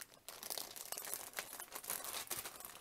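A plastic bag of building bricks from a Japanese cherry tree kit crinkles and rustles steadily up close as it is handled, with a few sharper crackles and no talking.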